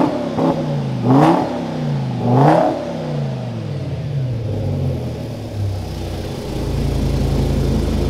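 A car engine revs hard several times in quick bursts at a burnout meet, then settles into a steady, loud, close rumble.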